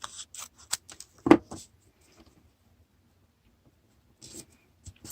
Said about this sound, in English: And I might just cut this with my scissors.